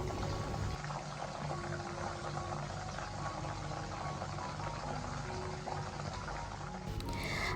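Liquid poured into hot coconut oil while frying banana chips, a faint, steady hiss and soft bubbling close by, with no talk.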